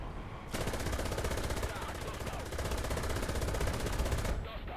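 A long, rapid burst of machine gun fire in the War Thunder video game rattles continuously for several seconds, loud and close.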